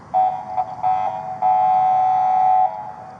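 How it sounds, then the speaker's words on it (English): A vehicle horn beeps several short times, then holds one long blast, loud and close. "I see you beeping that horn, Jeremy."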